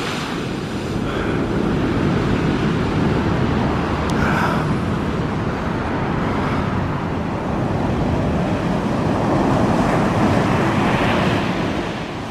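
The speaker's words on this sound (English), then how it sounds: "So just see one more big wave here and then head up in that direction." Big stormy sea waves crash against the marina wall at Watchet, a loud continuous roar of surf with heavy wind buffeting the microphone and slight surges in intensity, no voices present.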